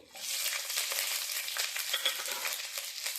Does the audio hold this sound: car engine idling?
no